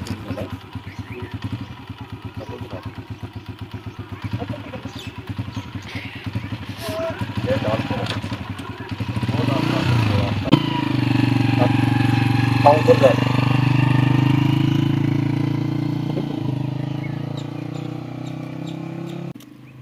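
A 125 cc motorcycle engine ticks over with a fast, even putter, then revs up into a louder, steady drone before easing back; people talk over it at times.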